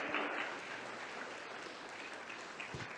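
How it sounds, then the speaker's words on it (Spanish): A church congregation at a worship service applauds in a steady, diffuse wash of clapping that sounds distant and fairly faint throughout. "Dale un aplauso"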